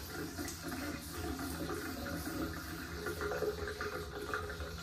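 Tap water running steadily from a domestic supply fitted with a SureStop valve, a soft continuous hiss and trickle at low level, no voices.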